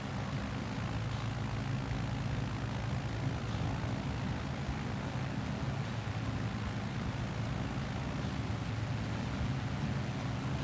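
A small plane's engine drones steadily in flight in a flight simulator game on an Alaska Inside Passage route, a continuous loud hum with no break.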